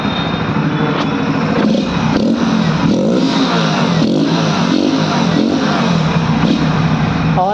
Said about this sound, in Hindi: फिल्टर गाड़ी का निकालने के बाद इसकी आवाज़ सुनो कैसी आती है भाई